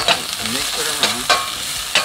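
Asparagus seasoned with salt and pepper fries in a pan under a steady sizzle, with several sharp utensil clacks and scrapes as it is stirred, close and fairly loud, no talking.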